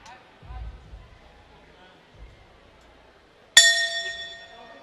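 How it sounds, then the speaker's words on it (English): During a WBC Asia Silver middleweight boxing fight, a boxing bell gives one sharp clang near the end that rings on and fades, after quiet crowd and commentary sounds. "that is the bell for round number 8."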